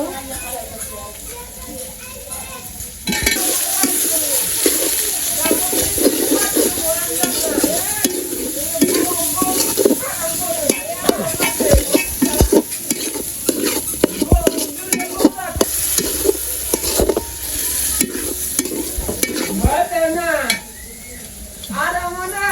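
Spices being sautéed and stirred in a pan, steady scraping and sizzling with clinks of the utensil, continuing under voices and children's chatter nearby.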